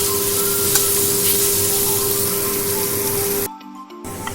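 Poppy-seed paste frying steadily in a pan with a loud, continuous sizzle that cuts out abruptly near the end, then returns faintly.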